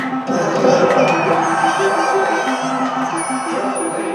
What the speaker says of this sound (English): They're cheering for me!